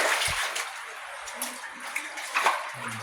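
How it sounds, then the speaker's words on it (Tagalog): Water flows and splashes inside a cave in Batuan, Bohol, a steady wash with bursts of splashing and faint voices mixed in. "Ugnaw kayo ng tubig."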